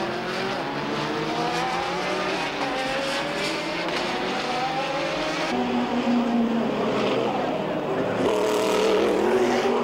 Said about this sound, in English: Thackwell blasts away at an astonishing rate, leaving Wollek and Stuck astern